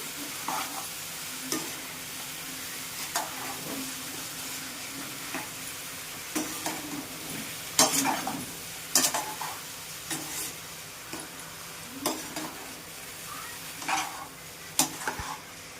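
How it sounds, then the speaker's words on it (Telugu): A mixture being stirred in a sizzling pan: a spoon scrapes and taps the pan in irregular strokes over a gentle continuous fry, close and moderately loud. "ఇప్పుడు దీన్ని మంచిగా కలపాలి."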